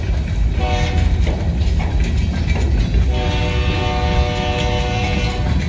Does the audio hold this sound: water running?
no